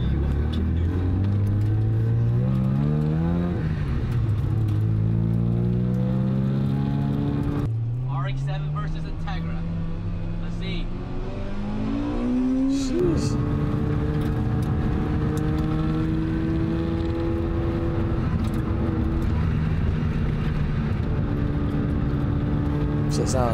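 Rotary-engine car revving hard in a touge racing video game, its engine note climbing and dropping through repeated gear changes, loud and steady throughout, with players chatting over it.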